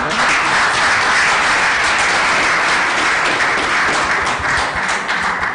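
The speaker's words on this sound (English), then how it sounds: "Thank you, applause for them." Sustained applause from a large audience for departing panel speakers at a school sport forum, continuous, full-sounding clapping holding steady throughout.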